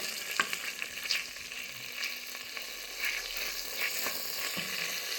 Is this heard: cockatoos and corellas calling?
no